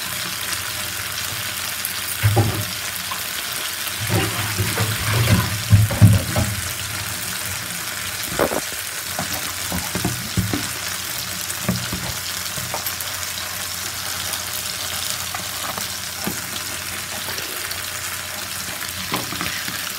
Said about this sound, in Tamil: இதெல்லாம் ஃப்ரை ஆனதும் நம்ம திருப்பி போட வேண்டியதுதான்.